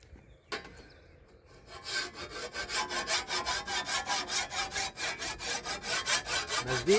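A hand file rasps against a fodder-cutting blade being sharpened, starting with a single scrape and settling into a steady, rhythmic back-and-forth of close, bright strokes.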